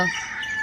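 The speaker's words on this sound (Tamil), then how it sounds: "எந்திரிச்சு வரும்போதே கோழி இந்த பக்கம் கூவுறுது" A rooster crows in the morning, one loud, sustained, strained call held close by, with no talking.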